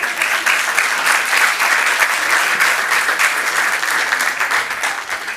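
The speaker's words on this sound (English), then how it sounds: "Let's give them one more round of applause on the way out." An audience at a Burbank city council meeting claps loudly and densely, an unbroken wash of close applause that holds steady throughout with no speech over it.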